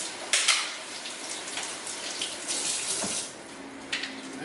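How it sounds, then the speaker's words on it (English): Tap water runs into a kitchen sink while tomatoes are rinsed under it, a steady close splashing hiss with a few louder spatters and brief shifts in flow, no speech. "I'm gonna have to wash the tomatoes off."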